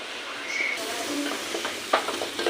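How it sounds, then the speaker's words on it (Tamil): Green turkey berries sautéing in oil in a pan for a Tamil village-style kulambu, a continuous close sizzle with a few stirring scrapes and clinks near the end. "எண்ணெயில் சூப்பராக சுண்டைக்காய் நல்லா வதங்கிருச்சு"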